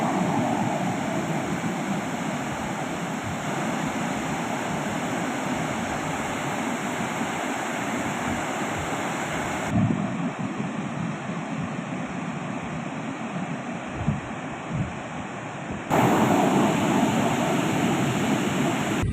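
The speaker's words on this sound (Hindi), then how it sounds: "सुबह 6 बजे की स्थिति को देखते हुए 20 गेट को 1 फीट पर खोलकर पानी छोड़ा जा रहा है" Water pours steadily through the twenty opened gates of the overflowing Shetrunji dam, a continuous broadband roar that holds steady throughout with a few abrupt shifts in level.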